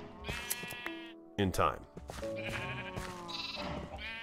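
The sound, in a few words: sheep bleating in the video game Minecraft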